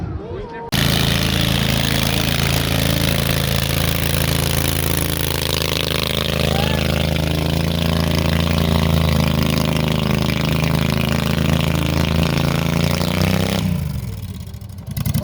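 A loud, steady tractor-pull engine roar at an expo drones on continuously for most of the clip with a rough, heavy rumble, then cuts off sharply near the end.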